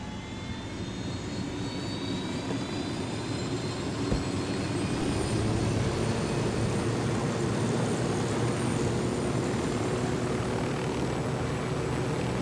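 An aircraft engine in the Ghost Recon Wildlands video game drones steadily and loudly for the whole stretch, a constant close roar with no voices over it.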